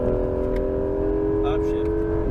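An exotic sports car engine holds a loud, steady high-revving drone on a race track, dropping pitch slightly near the end as it shifts up, with an instructor talking over it.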